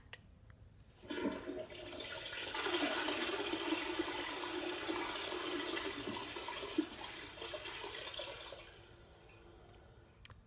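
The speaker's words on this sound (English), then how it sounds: "It was the sound of water gurgling going down the toilet. It was the flushing of the toilet." A toilet flushes, the water rushing and gurgling down the bowl in one steady surge that lasts several seconds before fading, heard close and alone.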